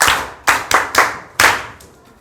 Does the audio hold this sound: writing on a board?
no